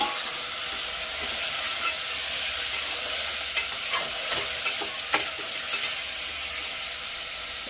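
Mutton mixed with onions stirred in a pan, a loud continuous sizzle and hiss with occasional soft scrapes of the spoon, close by and without speech.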